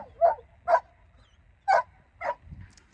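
Dogs bark outdoors on a camping trip at Newton Park in Dumfries and Galloway, Scotland: four short, sharp barks at moderate distance with pauses between them, and no talking.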